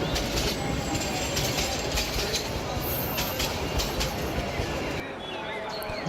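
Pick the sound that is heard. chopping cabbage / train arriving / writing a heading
train arriving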